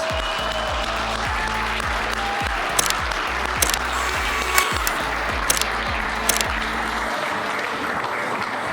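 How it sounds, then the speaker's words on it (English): Audience applause for award nominees at an awards show, sustained dense clapping that holds steady for several seconds, with a few sharper bursts cutting through before it trails off near the end. "Big round of applause for all of the nominees."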